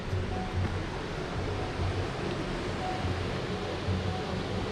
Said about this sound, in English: lovely little like running water and everything there